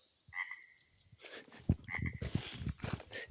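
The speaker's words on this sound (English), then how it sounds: "Frog." Frogs croak in a marsh, a faint higher call early on, then a busier run of rapid, close croaks and clicks over quiet outdoor background.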